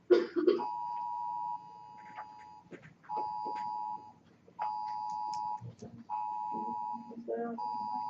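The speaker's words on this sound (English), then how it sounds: "I think that's your phone." Repeated electronic alert tones from a phone, like a storm warning, sound in steady bursts of roughly a second each, recurring through the clip over a classroom background with people talking.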